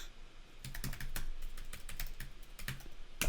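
Fingers clatter fast across a computer keyboard while code is being written, producing a quick run of close, crisp key clicks and no speech.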